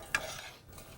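Pieces of white-meat chicken being stirred in a hot pan: one sharp utensil scrape near the start, then a soft, steady sizzle, close and fairly quiet with no talking.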